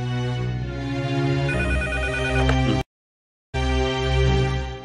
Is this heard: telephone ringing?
yes